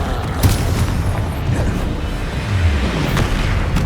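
Bombarda, a blasting spell in Hogwarts Legacy, goes off as a dense, continuous rumble of booming explosive bursts with no clear gaps, loud and close and heard alone.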